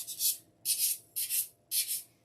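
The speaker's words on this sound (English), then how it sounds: "So this is a lower or higher grade sandpaper" Four rhythmic strokes of sandpaper rubbing on a soft surface, a dry hissing scrape repeated back and forth at close range with brief pauses between.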